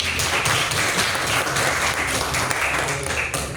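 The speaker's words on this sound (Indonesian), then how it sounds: "Tepuk tangan buat saya." A classroom of students claps together in a lively, uneven burst, with individual hand claps audible in the close, steady applause lasting a few seconds.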